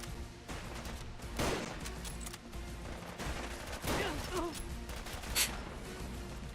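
Video game gunfire in Fallout London: a string of close, fairly loud shots in quick uneven bursts over a busy combat background, with a louder crack near the end.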